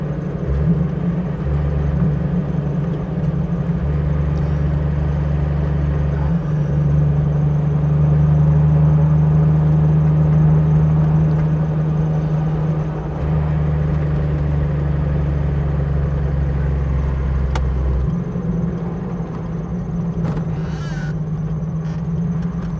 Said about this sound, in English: I'm blipping the throttle, and it wants to run sideways every time I do it